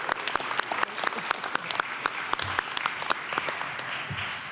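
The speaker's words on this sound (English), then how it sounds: "Let's give Gloria a big round of applause" An outdoor audience at a New York City housing announcement in Bushwick applauds in a moderate, steady patter of many hands with distinct sharp claps, heard from a little distance and without speech.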